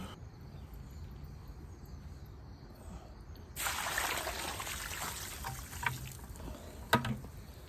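Water is poured onto a coconut coir chip husk block being soaked as a growing medium. After a quiet start, a steady, close splashing pour fills the second half, ending with a couple of sharp knocks.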